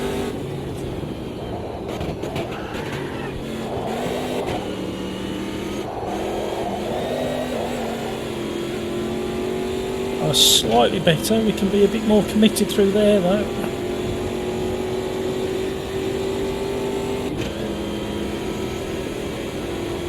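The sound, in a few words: 370hp V8 Copa Montana car engine in video game Automobilista 2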